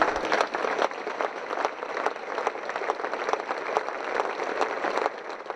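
Long, steady applause from a crowd gathered in a town square for a memorial balloon release, dense and continuous throughout without any speech.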